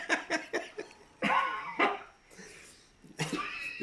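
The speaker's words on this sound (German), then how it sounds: "Hust weiter, hust weiter." A person coughs in several harsh, close bursts, with short pauses between the fits and no talking.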